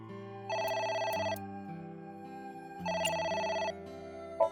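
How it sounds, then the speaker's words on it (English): A telephone rings in the AI: The Somnium Files game, two bursts of bright electronic trilling separated by a pause, clear and alone with no talk. "The phone is ringing."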